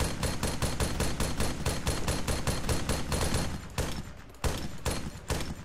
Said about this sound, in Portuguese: Eu escutei tiro